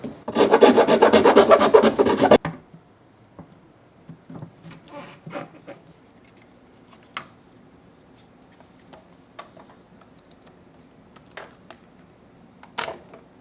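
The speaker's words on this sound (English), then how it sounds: "I'll just deburr this hole and she'll be good to go." A deburring tool rasping around a drilled hole on a Harley bagger during a stereo install, about two seconds of loud, steady close scraping, then faint scattered taps and handling noises.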